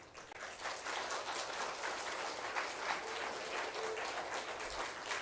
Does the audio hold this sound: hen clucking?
no